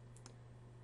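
Two faint, quick mouse clicks land close together near the start while a steady electrical hum runs underneath.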